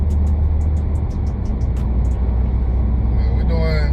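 A cruiser motorcycle, a decent used bike bought for under $1,000, rolls along a highway at around 55 to 60 mph, giving a steady, loud engine drone with heavy wind rumble throughout. Faint voices sound near the end.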